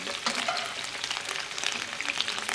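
Meat sizzling and frying in a pan, a steady crackling hiss with bursts of spitting fat throughout, close and fairly loud, no talking.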